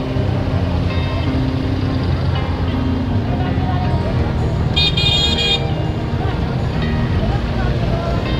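Congested street traffic in Purworejo rumbles steadily with engines idling and creeping past, while a short bright horn toot cuts through near the middle; people talk amid the noise.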